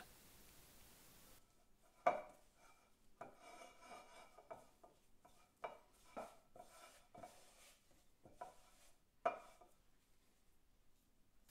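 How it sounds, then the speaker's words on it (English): Pastry dough for medieval fried cryspels gathered into a ball by hand, heard as soft close rubbing and scraping with a few sharper knocks against a bowl or surface, intermittent and quiet, no talk. "And then you gather the dough into a ball with your hand."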